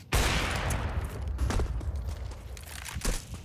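Rapid gunfire in Counter-Strike 2 during an esports match, a dense burst of sharp cracking shots that starts abruptly and continues for several seconds at moderate loudness.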